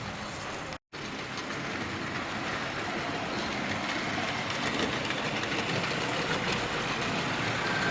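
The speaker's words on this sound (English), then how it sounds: "It's so quiet as well, that little wagon, that little engine" A small Terrier locomotive on a model railway runs along the track with a steady, quiet rolling rumble, after a brief cut near the start, no talk over it.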